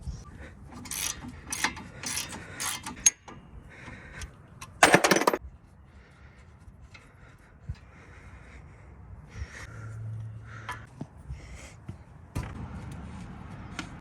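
A ratchet works the 13/16 caliper bracket bolts on a 2005 Chevy Duramax pickup's front brakes, with bursts of close metallic clicking, a louder rasping spin, then quieter scattered clanks and rattles of tools on parts.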